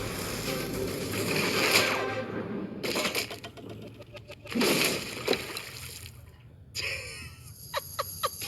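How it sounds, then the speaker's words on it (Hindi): A large water bag weighing over 45 kg bursts when its rope snaps, dumping water onto the ground in heavy splashes and sloshing bursts, with gasping voices and clatter around it. "हमारी रस्सी टूट गई और सारा पानी जमीन पर बह गया।"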